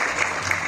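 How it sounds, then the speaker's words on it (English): Audience applause at a Q&A session during the Mahbourg Water Front Festival, a brief steady wash of many hands clapping with no gaps. "So a round of applause for Maharaj,"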